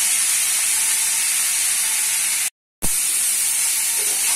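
Potato pieces fry in hot oil, a loud, steady, hissing sizzle that runs close and unbroken apart from one short cut to silence midway.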